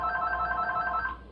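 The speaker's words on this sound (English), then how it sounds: "I gotta answer this phone" A telephone rings indoors in one steady, bright electronic trill that stops abruptly after about a second.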